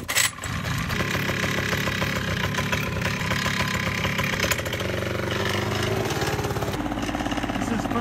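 A Rokon Mototractor two-wheel-drive motorcycle with tractor-style tires runs its engine steadily up close, a rough, pulsing idle that stays loud throughout, with a slight shift in rhythm partway through.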